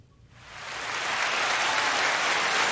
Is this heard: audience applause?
yes